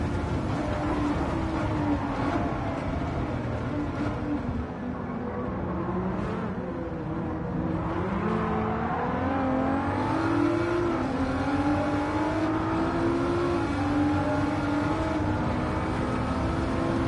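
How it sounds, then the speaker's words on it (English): A Toyota Supra race car in a racing video game sweeps past with a rising, shifting engine note, loud and continuous, blended with other cars' engines on the track. "Good pass by the Supra."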